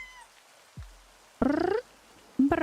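A cat purrs in a narrative video game, in two short, close, pulsing bursts separated by a brief pause. A faint swoosh and soft tones come before them.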